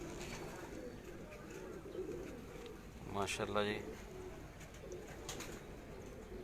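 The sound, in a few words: pigeons cooing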